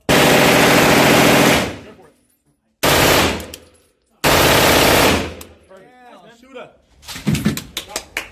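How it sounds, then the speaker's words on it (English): A 9mm submachine gun firing full-auto at an indoor gun range: three loud, close, continuous bursts, each cut off abruptly, followed by excited voices talking and laughing. "It's their little like 9mm submachine gun."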